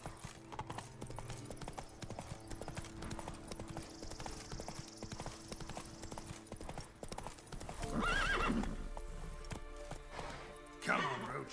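A horse in The Witcher 3 gallops with steady rhythmic hoofbeats, breaking into a whinny, while someone speaks briefly over the game sounds.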